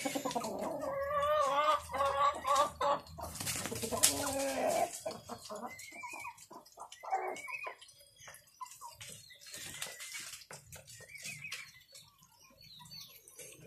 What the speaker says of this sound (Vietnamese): Mình có nuôi một số con gà ta nó thả vườn này nhé.